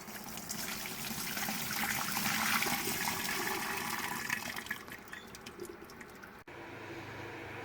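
Water pours steadily into a brewing kettle during a Trappist single brew day, a broad continuous rushing splash that holds fairly loud for about six seconds, then cuts abruptly to a quieter low hum.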